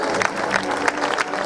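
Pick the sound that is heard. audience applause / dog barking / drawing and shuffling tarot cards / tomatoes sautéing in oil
audience applause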